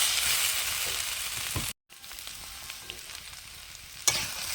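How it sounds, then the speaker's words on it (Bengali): Spices and ground cumin and coriander mixed in a hot pan for a tilapia coriander curry: a loud, close frying sizzle with stirring scrapes, broken by a brief dropout and ending in a sharp clatter. "এবার ভালো করে আমি সব একসঙ্গে মিশিয়ে নেব"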